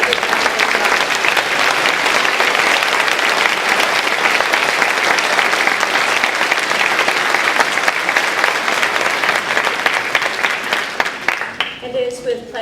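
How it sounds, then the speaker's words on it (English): A large crowd at a school moving-up ceremony applauds loudly and steadily for several seconds before the clapping thins out and fades. "Give them a nice big round of applause."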